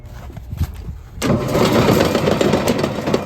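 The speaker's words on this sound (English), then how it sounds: "the tractor kicks on" A tractor engine cranks and catches in sub-zero cold, a brief sputtering attempt giving way to a loud, steady close-up roar that holds through to the end.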